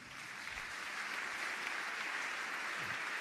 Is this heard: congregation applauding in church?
yes